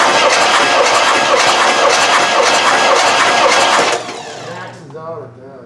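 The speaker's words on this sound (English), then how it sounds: "So we still want to be able to crank it over. We're going to do the compression test." Starter cranking a 1973 Oldsmobile Cutlass 442 engine for a compression test: a loud, steady rhythmic churning that runs for about four seconds, then cuts off, with someone speaking briefly afterward.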